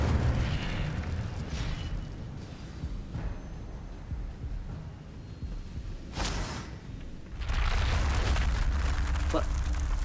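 Incendio fire spell cast in the Hogwarts Legacy video game, a loud roaring rush of fiery bursts with whooshing surges that briefly drop away before a heavier blast swells near the end.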